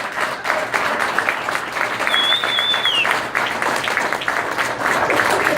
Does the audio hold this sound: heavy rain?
no